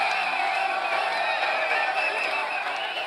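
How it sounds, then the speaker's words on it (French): A dense crowd of excited Chinese people cheers and shouts at a memorial gathering on the site of an accident, marking one year since an artist's death. The roar is loud, close and unbroken, with no clear single voice. "C'est une foule de Chinois surexcités qui célèbrent l'an 1 du décès de l'artiste."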